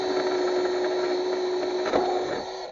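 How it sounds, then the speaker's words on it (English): A drill fitted with a 12 mm nut driver drives a lag bolt into wood, giving a steady close whirring drone for nearly three seconds that tails off as the bolt seats. "we're using a 12 minimum nut driver for this leg bolts. So we're gonna screw it right here."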